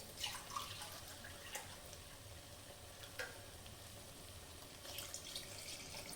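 Water pours steadily into a pressure cooker with a soft hissing rush and a faint sizzle underneath, plus a few light knocks.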